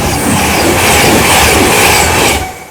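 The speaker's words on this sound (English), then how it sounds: "Modern trains are extremely fast and so quiet they give you no time to react." A modern train passes close by on railway tracks, a loud broadband rush with rattling wheel noise that holds steady for about two seconds and then drops away quickly.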